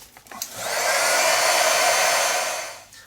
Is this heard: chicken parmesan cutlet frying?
no